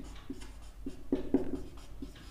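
Pen strokes scratch out a math solution by hand in short, close bursts with small pauses between them, while a quiet background hum continues and no one talks.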